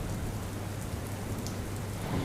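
Heavy monsoon rain pours steadily across a low-lying district in Gir Somnath, Gujarat, a dense, even hiss of falling water with a low rumbling undertone and no voices, holding constant from start to finish.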